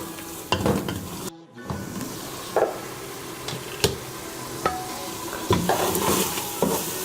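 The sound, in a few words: frying tomato masala for daal mash in pan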